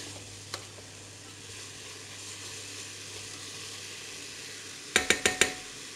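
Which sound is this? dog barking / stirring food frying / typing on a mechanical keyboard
stirring food frying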